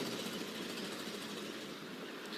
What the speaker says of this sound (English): Listen to this exhaust on this worker